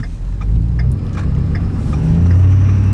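A 6.7 diesel street truck pulling away with the throttle at half pedal, a loud deep engine rumble that builds and strengthens over three seconds, close by with no talk.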